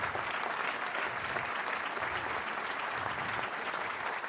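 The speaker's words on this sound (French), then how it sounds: "que l'on applaudit bien fort" An audience applauding loudly at a political party's summer university gathering, a continuous, even wash of many hands clapping close by with no pause throughout.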